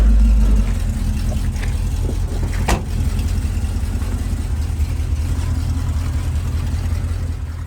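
A 1982 Chevy C10 short bed truck backing into a garage, its engine idling with a deep low rumble throughout, fairly close and steady, with a brief clack partway through.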